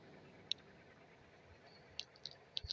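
A computer mouse clicks several times, faint sharp ticks scattered over quiet room hiss, a few grouped close together near the end.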